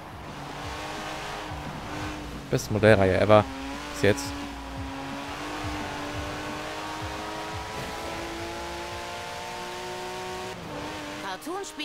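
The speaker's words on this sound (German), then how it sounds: "Sehr geiles Auto, der 911er." A Porsche 911 engine drones steadily in Forza Horizon 4, with a brief surge of revving and tire noise early on, under someone speaking in German.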